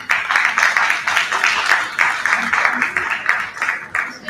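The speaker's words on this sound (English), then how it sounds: "Audience, can we have a louder clap" Audience at a live diagnostics industry event claps in a continuous, fairly loud burst of applause with uneven pulses, and a voice speaks over it.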